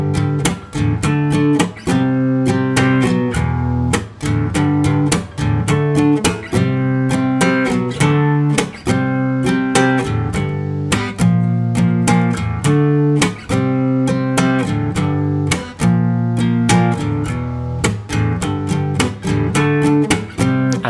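A guitar plays a song with two looped parts joined together, strummed chords repeating in a steady rhythm, loud and close with no talking.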